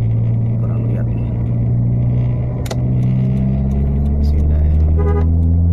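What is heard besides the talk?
large trucks overtaken on the road, horn honking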